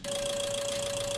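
A Peugeot 206 three-cylinder's fuel injectors spray on a test bench at a simulated 1000 RPM, giving a steady mechanical buzz with a sharp sustained whine over it, constant and close.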